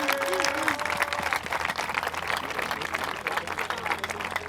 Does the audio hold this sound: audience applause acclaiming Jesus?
yes